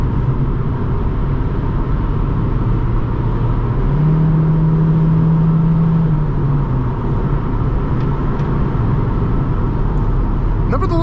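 Steady road and engine noise inside a moving 2001 Honda Civic LX, a continuous low rumble and hum with a brief rise in engine tone midway, no talking.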